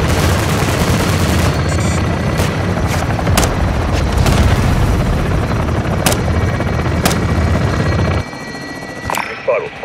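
Called-in air strike explosions boom in Call of Duty MW2 amid a helicopter's steady rotor drone and sharp bursts of gunfire, a dense, loud battle din that drops away abruptly near the end.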